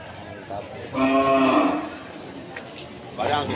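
Cattle at an animal market in Aceh, Indonesia: one long, loud moo fills the middle of the clip, and another lowing call starts near the end over a low crowd murmur.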